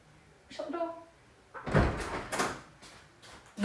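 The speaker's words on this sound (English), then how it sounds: "Shut the door." A door at home is pushed shut with a dull thump and rattle after brief movement sounds, followed by a few softer knocks nearby.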